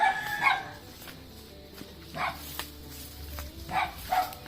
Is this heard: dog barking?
yes